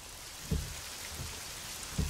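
Rain from the Pure weather mod in the racing game Assetto Corsa, a steady hiss of rainfall broken by a few heavier low thumps, with no talking.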